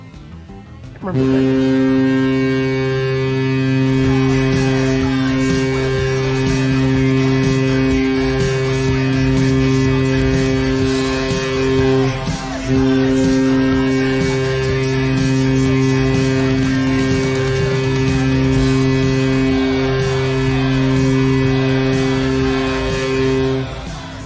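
A loud, deep, sustained hockey arena goal horn blast, from Anaheim, with a steady harmonic drone that holds for many seconds, broken briefly partway through, over crowd noise.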